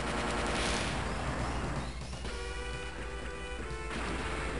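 Gunfire in the mech combat game Zoids Legacy, a dense continuous barrage of rapid shots and impacts that stays loud and fills the whole clip, with no talking.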